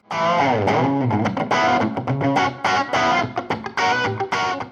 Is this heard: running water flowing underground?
no